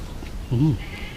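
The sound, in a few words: goat bleating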